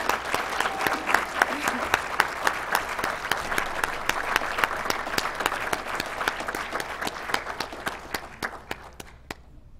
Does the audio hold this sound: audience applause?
yes